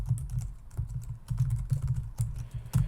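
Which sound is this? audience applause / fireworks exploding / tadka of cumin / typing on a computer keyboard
typing on a computer keyboard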